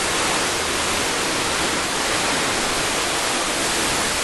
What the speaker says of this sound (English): here's the top of the falls. You see it coming down